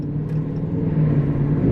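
A Chevy LS-swapped 6.0-liter engine, or a Dodge Charger Daytona 392 6.4-liter, rumbles close by with a deep, throaty drone that swells slightly toward the end, heard without talking.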